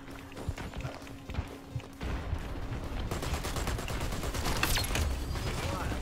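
Rapid gunfire from the shooter game Dirty Bomb rattles in dense, continuous bursts that grow louder midway, with game noise and a player's voice underneath.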